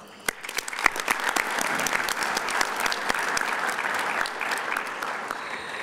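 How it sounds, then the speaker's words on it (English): Audience applause for City of Tampa volunteers at a Black History celebration, a few sharp claps swelling into steady, dense clapping from a sizable crowd that holds for several seconds. "So please join me again in giving them a round of applause."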